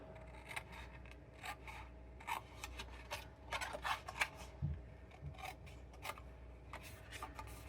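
Paper being cut for a Stampin' Up! stamped box, a series of quiet, close snips and scrapes in irregular bursts against a faint background hum.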